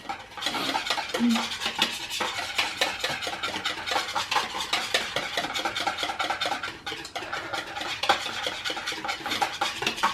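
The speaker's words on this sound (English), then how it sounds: "Keep mixing." A dalgona coffee mixture is stirred and whisked vigorously in a bowl, giving a steady, close scraping and clinking that runs unbroken for about ten seconds with no speech.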